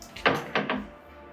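Double doors in a house open with a few quick wooden knocks and clunks spread over about a second, close and moderately loud, with quiet room tone in between.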